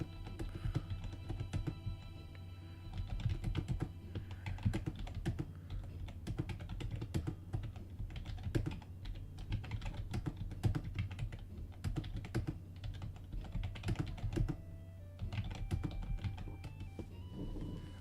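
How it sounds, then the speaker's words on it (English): Steady typing on a computer keyboard, with quick irregular key clicks continuing close-up for the whole stretch and no talking. "so I'll type it out for you."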